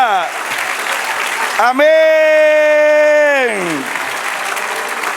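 A church congregation claps loudly and steadily, broken in the middle by a long, drawn-out voice calling out over the room before the applause swells back up.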